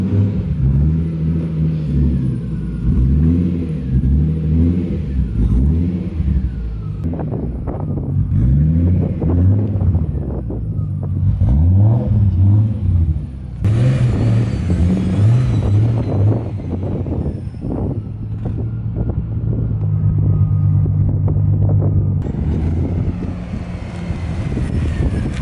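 Nissan S14 Silvia engine running as the car pulls out, loud close rumble with repeated rising and falling revs through gear changes, plus wind buffeting on the microphone.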